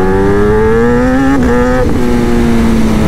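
A Kawasaki ZX-10R sport motorcycle engine revs at high speed, giving a loud, steady, buzzing drone with slight dips and rises in pitch throughout, with no talking.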